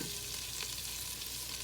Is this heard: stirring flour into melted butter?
yes